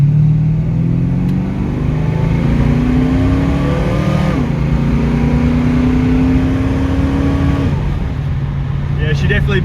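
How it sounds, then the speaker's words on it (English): A 1976 Holden LX Torana with a lumpy Red 308 V8 accelerating hard in first gear, loud and close, its engine note climbing steadily, dropping briefly at a shift, then climbing again. "So I'll shift it down into first, wait for this car to go."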